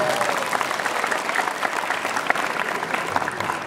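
Vocational high school students clapping together during a character-building session in a hall, a dense steady patter of applause heard from a distance at moderate level, with no talking.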